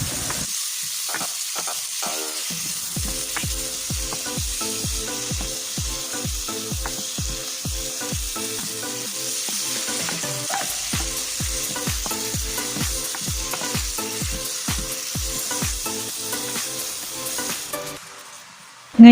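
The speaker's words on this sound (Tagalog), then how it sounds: "So, halu-haluin lang natin ito hanggang medyo lumambot." Chopped tomatoes sizzle in a hot pan with onion while a spoon stirs and scrapes in a quick, repeated rhythm, frying steady underneath throughout, no voices.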